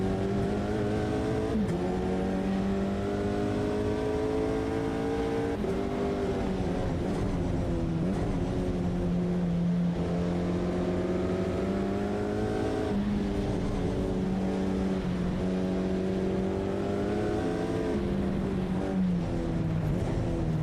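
Alpine GT4 race car in a racing video game, its engine droning and revving steadily through gear changes for about twenty seconds, loud and continuous, with pitch rising and dropping as it shifts, racing in the rain.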